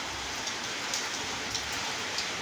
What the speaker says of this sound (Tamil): இன்றைக்கி பாருங்கள் நம்ம ஊரில் சரியான மழைங்க